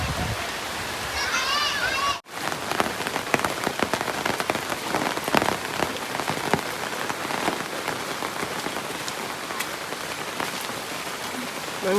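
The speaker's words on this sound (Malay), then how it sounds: "Baru hujan." Rain falling steadily at a family campsite in Bentong, a dense, continuous hiss of drops on surfaces with a brief dropout near the start, and faint voices speaking beneath it.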